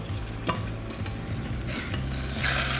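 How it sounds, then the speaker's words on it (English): Fish sears in a hot pan with dark soy sauce, a steady sizzle with scraping and stirring strokes that grows louder and brighter toward the end, no voices. "Look at that color. It's nicely seared."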